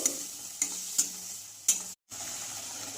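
Masala with coriander powder and Kashmiri red chili frying in a pan for a river crab curry, a steady close hiss broken by a few sharp scraping stirs and one brief silent gap.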